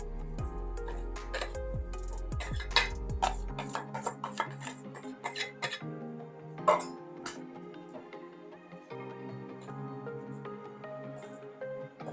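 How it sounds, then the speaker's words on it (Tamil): A spoon mixes ground powder and sugar for maa laddu in a metal bowl, with repeated clinks and scraping taps against the dish that come in bursts and then settle into softer, scattered knocks. "இது ரெண்டையுமே சேர்த்து ஃபுல்லாக வந்து நம்ம மிக்ஸ் பண்ணிக்க போகிறோம்"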